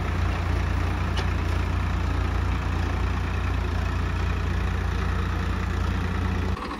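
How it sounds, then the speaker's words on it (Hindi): A heavy tractor engine runs at a steady, loud, low throb, close by and unbroken for several seconds until it cuts off at the end. "इतना हैवी ट्रैक्टर मैंने फर्स्ट टाइम चलाया।"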